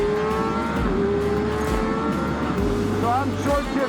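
A Kawasaki ZX-6R 600 sportbike being ridden hard on a race track, its engine wailing loudly and continuously as it is short-shifted, with pitch drops at each gear change and a voice talking over it.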